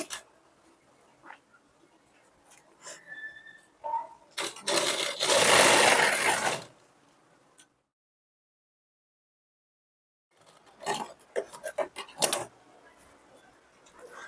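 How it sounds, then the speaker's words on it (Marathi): A sewing machine stitches a fabric strip before piping, with one steady two-second whir, then a pause and a few short stuttering bursts, set among quiet handling clicks. "पाइपिंग करायच्या अगोदर इथे बघा, आपल्याला अशी एक शिलाई मारून घ्यायची."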